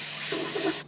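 Water running and splashing as rice is rinsed in a bowl or sink for a Vietnamese breakfast, a steady wash of sound with a few brief swirling pulses, fairly close and without talk.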